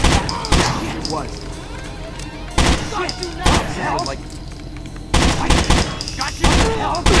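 Rapid bursts of gunfire in the tactical shooter game Rainbow Six Vegas, with several loud volleys spread across the span and game voices talking between the shots.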